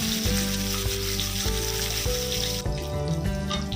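Soaked cashews sizzle as they fry in a small pan in a mini kitchen, a steady close frying hiss laced with a low hum and a few soft clinks, no voices.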